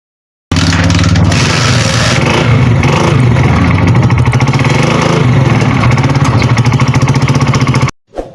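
A small engine fires up after troubleshooting and runs hard and loud for several seconds in a rough, steady drone with some revving. It cuts off abruptly and is followed by a short thump.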